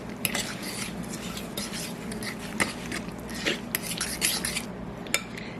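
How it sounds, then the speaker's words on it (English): A spoon stirs sugar into pumpkin pie filling in a bowl, producing a steady close scraping and clinking with a few sharper knocks against the bowl's side. "I'm just going to stir this together very well."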